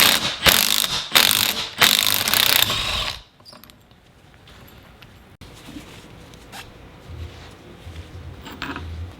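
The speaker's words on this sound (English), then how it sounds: "So now we're going to remove this nut" Ratchet loosening a 17mm nut on the suspension of a 2020 Toyota Tacoma TRD Pro during a lift install: a burst of rapid, loud clicking for about three seconds, then quieter workshop background.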